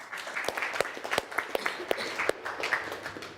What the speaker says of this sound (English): A round of applause for Niels.